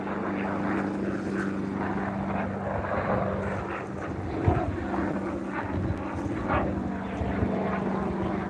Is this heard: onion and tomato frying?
no